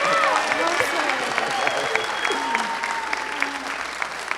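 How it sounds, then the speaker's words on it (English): A convention crowd at a fan panel claps and cheers together, a dense, lively wash of applause with a few whoops, while a voice briefly cuts through the noise. "Round of applause"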